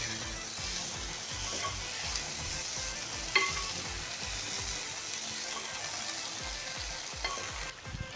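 Restaurant-style chicken fried rice being tossed and mixed in a hot pan: a dense, steady sizzle runs under rapid rhythmic scraping of a spatula against the metal, close and continuous throughout.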